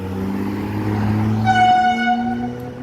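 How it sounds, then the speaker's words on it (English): A V/Line regional passenger train rumbles past nearby in Melbourne while its horn sounds a long, steady tone over the low rolling rail noise. "The V-line train is coming down."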